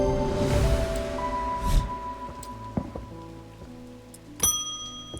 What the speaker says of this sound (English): Rain. Again. Soaked to the bone before I'm halfway through my rounds.